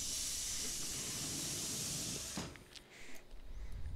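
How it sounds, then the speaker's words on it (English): Metro train doors closing in the Metro Simulator video game, a loud steady pneumatic hiss that cuts off sharply partway through, leaving quieter clunks and low rumble. "Here we have 0 minutes, so we'll close up our doors."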